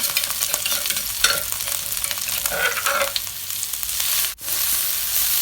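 Thai curry paste sizzles and crackles loudly in a hot pan while a utensil scrapes and stirs it in uneven strokes.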